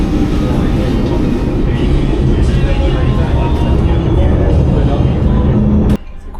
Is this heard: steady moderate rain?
no